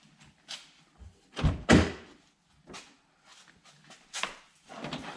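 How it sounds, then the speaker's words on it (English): A garage door is opened and shut in a workshop garage, giving a few separate thuds and knocks spread across several seconds. The loudest slam comes near the middle, with lighter knocks before and after. "we gotta open that door again"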